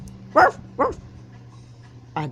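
Dogs barking close by in Philadelphia: two sharp barks in quick succession, a pause, then a third bark, over a quiet low hum.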